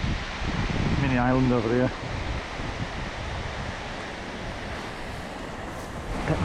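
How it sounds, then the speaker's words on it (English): Steady wind roars and buffets the microphone outdoors by the water on a fishing trip, a constant broad rush that runs under a man's brief speech. "Oh, windy."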